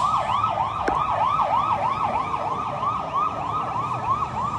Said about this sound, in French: c'est l'ambulance en Thaïlande.